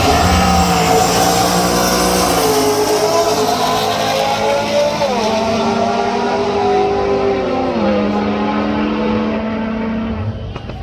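A Pontiac drag car races down the strip at US131 Motorsports Park, its engine loud and close in a sustained roar that climbs in pitch through each gear, with two shift drops before it fades as the car pulls away.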